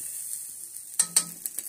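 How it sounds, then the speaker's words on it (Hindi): Poha with turmeric frying in a little oil, a quiet hiss that sharpens into a few bright crackling pops and stirring sounds toward the end, no speech. "तेल हल्का ही डाला, डायरेक्ट ही इसे फ्राई करता हूँ।"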